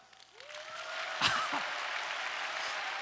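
Church audience applause at a thanksgiving night service, a dense wash of clapping that swells in and holds steady to the end, with a brief voice partway through.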